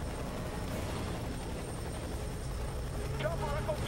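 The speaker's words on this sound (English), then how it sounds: "Chopper Echo 2-4 is right on top of you." A helicopter in the Fear 3 video game hovers overhead with a steady, loud rotor drone that fills the mix, while game voices and radio chatter sound on top.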